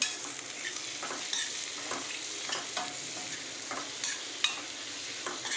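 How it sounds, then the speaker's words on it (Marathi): Paneer bhurji with tomato, coriander, coriander powder, garam masala, turmeric and salt is stirred in a frying pan, a continuous moderate sizzle with regular soft scrapes and taps of the spoon up close. "चला आता मिक्स करून घेते।"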